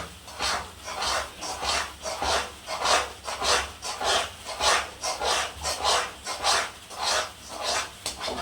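Rhythmic scraping and rubbing of a spoon along the bottom of a pan while thick jackfruit jam is stirred, close and steady, about a dozen strokes at an even pace with no talking.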